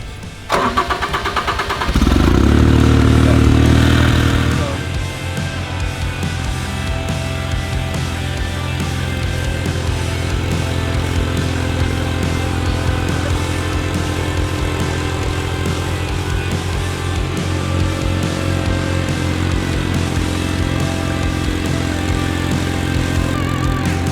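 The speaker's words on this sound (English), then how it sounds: "we'll turn the deck on. You can make a couple passes and see what it's like to mow with a Ventrac" A Ventrac 4500 compact tractor's engine starts with a brief loud crank, then settles into a steady, close idle hum that carries on alone with no talk.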